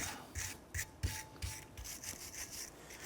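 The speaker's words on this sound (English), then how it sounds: "we're going to go ahead and use a wire brush. We're going to clean up our caliper bracket." A wire brush scrubs rust and debris off a front brake caliper bracket on a 1993-1997 Ford Ranger. About eight quick, rhythmic rasping strokes sound up close and fairly quiet, with no talk.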